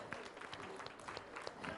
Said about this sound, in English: a big round of applause from all of you is required